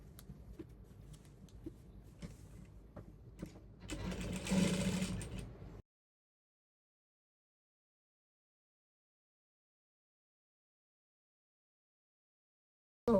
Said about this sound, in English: you have to take to your sewing machine now and join together with 1/2 inch allowance